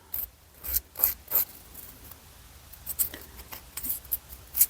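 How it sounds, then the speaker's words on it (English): Miniature knife handle being shaped by hand, a series of short scraping, rasping strokes in uneven bursts, close and fairly quiet, with no talking. "I'm just going to go and shape this handle of this one better"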